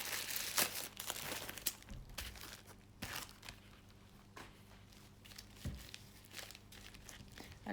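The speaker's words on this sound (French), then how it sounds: "j'ouvre d'abord le petit colis" A small parcel being unwrapped, with soft crinkling and rustling of packaging and a few tearing bursts, close and fairly quiet, continuing in irregular bursts throughout.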